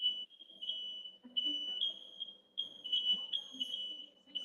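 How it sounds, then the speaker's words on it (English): A smoke alarm needing a battery change gives repeated high, thin chirps in an uneven series, faint and indoors, with low murmuring voices beneath. "Sounds like you need to get your battery changed on your smoke alarm."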